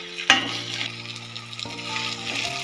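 Tomato and curry leaves fry in a tempering for dhaba-style palak rice, a continuous close sizzle. A sharp clank from the spoon sounds near the start, then softer stirring scrapes follow.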